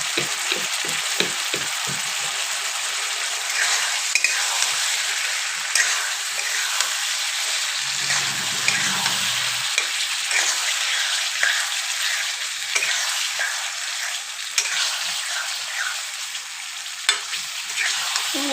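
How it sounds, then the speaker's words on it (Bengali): Spices, salt and new potatoes stir-fried in a pan for an egg curry, a continuous close sizzle broken by repeated scraping stirs and light knocks of a spatula over a long stretch, with no voices. "কিন্তু এবার মশলার সঙ্গে খুব ভালো করে কষাতে হবে।"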